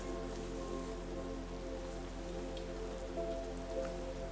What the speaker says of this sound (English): the rain sound is so nice